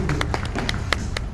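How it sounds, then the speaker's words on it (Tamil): Audience clapping at a Tamil television talk show, a brief scattered patter of hand claps over a background of crowd murmur and room noise. "கை தட்டுங்க."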